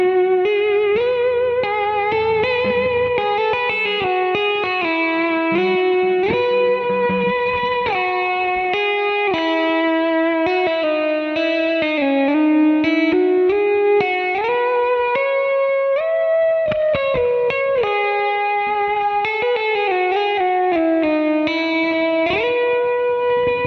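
Electric guitar through a Kemper with an infinite-sustain, EBow-like effect in the middle pickup position, long smooth swelling notes gliding between pitches with no attack, loud and continuous like a bowed cello line.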